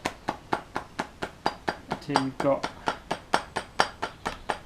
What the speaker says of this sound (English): So you then just really lightly knocking around the edge